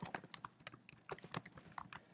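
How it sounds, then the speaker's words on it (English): Typing on a computer keyboard: a quick, irregular run of light key clicks and taps, close and quiet, with no voices. "begin typing."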